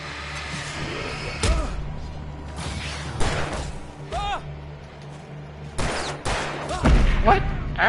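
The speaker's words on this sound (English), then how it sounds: "Alan, what are you shooting at?" Gunshots in the video game Alan Wake Remastered: several sharp, loud shots fired at irregular intervals over an ambient game soundscape, with a character's voice speaking between them.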